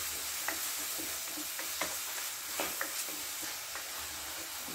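Chopped onion sautéing on a high flame for gobi manchurian, a soft steady sizzle with occasional light stirring taps and clicks from a utensil, fairly quiet and close.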